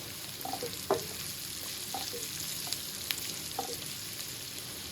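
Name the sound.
onion, garlic and tomato frying in a pan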